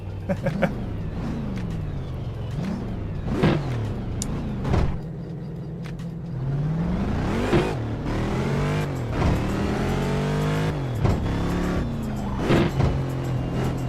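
An older 1997 Saleen Mustang race car engine revs repeatedly, rising and falling in pitch through several sharp throttle blips, then a longer, louder climb through the revs, heard fairly close.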